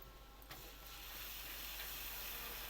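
Ginger garlic paste hitting browned onions in a hot pan, a steady loud sizzle that swells slightly and holds without a break, with no voices.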